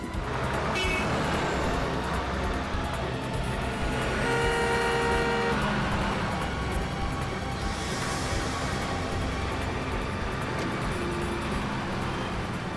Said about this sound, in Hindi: अरे इतनी कैसी बस क्यों चला रहे हो?